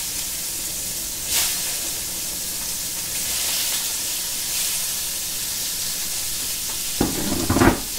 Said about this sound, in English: we're going to go ahead and put the sausage in the pan